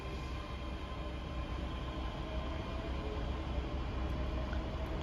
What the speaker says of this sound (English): Departing out now is the 1358 ScotRail service from Edinburgh Waverley to Dunblane.